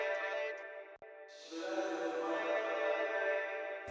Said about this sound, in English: So that's just a reverb.